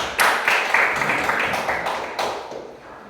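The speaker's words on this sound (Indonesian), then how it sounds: "sekali lagi untuk Ibu Ena, guru hebat kita kasih tepuk tangan" An audience at a school teachers' seminar applauds a teacher, a close, steady wash of many hands clapping that swells at the start and tapers off near the end.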